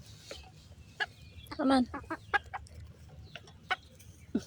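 A bantam chicken clucks in short bursts near the microphone, with a louder run of clucks in the middle, while someone speaks softly to it.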